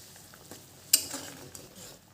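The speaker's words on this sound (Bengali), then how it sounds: "এখন আমি আদা বাটাটা, পেঁয়াজ বাটা আর কাঁচামরিচ বাটা, রসুন বাটা দিয়ে দেবো।" Ginger, onion, green chili and garlic pastes going into a pan for a prawn dish: a quiet sizzle with a sharp clatter and a burst of frying partway through, followed by a few soft scrapes, close up, no talk.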